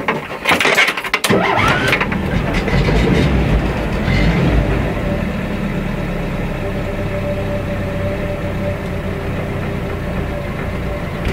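A Renault R11 car engine idling after a cold start, loud and close, with a burst of revving at first that settles into a steady, even drone with a faint whine running through it.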